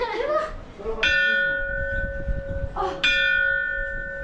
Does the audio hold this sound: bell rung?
yes